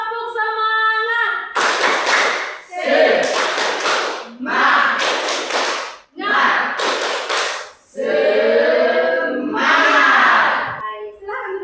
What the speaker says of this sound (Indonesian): Kita semua akan bermain tepuk semangat.